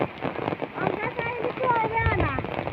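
Rain falls steadily in a village, a broad hiss running throughout while people talk over it close by.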